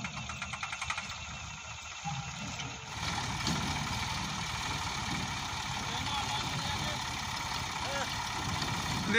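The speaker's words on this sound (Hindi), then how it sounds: "ट्राली ट्रैक्टर वाला आ गया" A tractor pulling a trolley idles nearby, a steady low engine rumble that grows slightly louder partway through and continues evenly, with some background voices.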